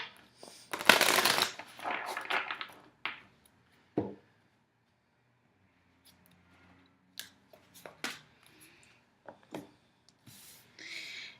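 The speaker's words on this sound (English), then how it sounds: "It's not giving me a strong read, so do 1 more shuffle." Tarot cards being riffled and shuffled in a loud burst near the start, followed by quieter, scattered taps and shuffles of cards with pauses between.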